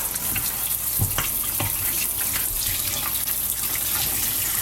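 Cold tap water runs and splashes over beef short ribs in a basin as they soak to draw out blood. The flow is a continuous close gush, with a few clunks and small splashes and no voices.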